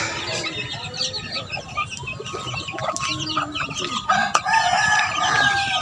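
Chickens cluck and a rooster crows on a farm with caged fighting cocks. Several birds call close by at once in overlapping cackles, with busy background noise.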